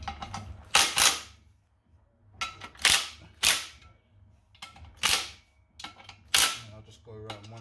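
A power impact gun on a medium setting tightens car clutch bolts in a crisscross pattern, firing loud, close rattling bursts, about eight short hammering blasts separated by quiet gaps.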